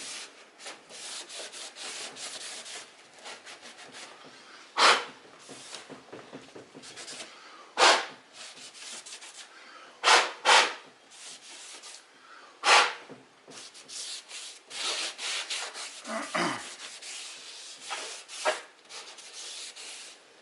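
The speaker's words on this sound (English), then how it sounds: "I'm going to use some all-purpose cleaner here first, and then I'm going to go over the same area with rubbing alcohol" Cloth wiping kayak plastic with all-purpose cleaner and rubbing alcohol, a continuous close rubbing swish broken by several louder scrubbing strokes, with no talk.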